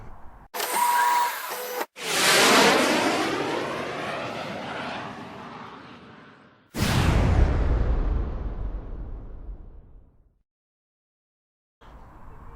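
A Triumph America LT motorcycle with an 865cc double overhead cam parallel twin roars loudly past, its engine rising and sweeping away, then a second loud pass fades out into silence before a brief burst of engine noise returns.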